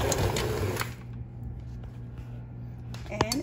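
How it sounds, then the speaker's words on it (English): Electric mixer running through ground beef for taquito filling, a steady motor whir with a rhythmic bouncing churn, close and fairly loud before easing briefly, with a faint voice near the end. "And then mix it one more time. I don't know what's wrong with the mixer"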